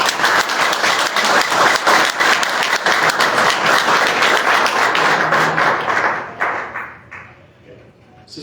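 Audience applause after a recited poem at a memorial tribute to a journalist, loud sustained clapping from a crowd that fades out toward the end.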